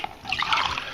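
A brief splash and trickle of blackberry wine spilling by a kitchen sink, liquid pattering for under a second, close and moderately loud, with no talking.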